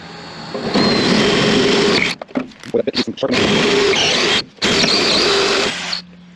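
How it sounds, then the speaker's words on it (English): Power drill boring through a rear door hinge on a Chevy Express van, loud and close: two long sustained whining runs separated by a stretch of short stuttering bursts, with a brief pause before the final run. "Let's get this thing drilled."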